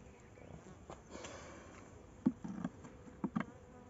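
A swarm of bees kept in a tyre hive buzzes faintly and steadily, with a few louder close passes and soft bumps standing out near the end.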